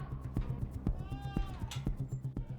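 Black goats on a goat farm bleating close by in short repeated cries, with rhythmic knocking and shuffling from the pen underneath and no talking.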